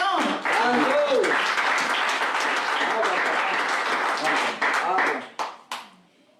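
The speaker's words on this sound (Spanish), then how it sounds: "Denle un aplauso al Señor." A church congregation applauds during a worship service, a thick, loud roar of clapping mixed with crowd voices that holds steady for about five seconds, then breaks into a few scattered final claps and fades.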